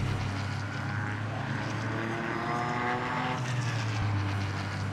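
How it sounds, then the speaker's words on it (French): A race car engine in a racing video game, a loud continuous drone with shifting pitch as revs rise and fall, staying close and steady throughout. "on va s'écouter un peu le bruit du moteur."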